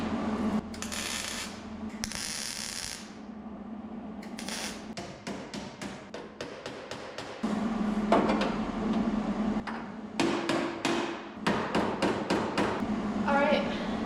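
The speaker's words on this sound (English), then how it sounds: "Probably going to have to use my hammer to get it to sit how I want." Repeated metallic hammer blows and clanks from fitting an auto body cab corner panel into place, irregular sharp knocks of varying strength across the stretch, with faint background noise between them.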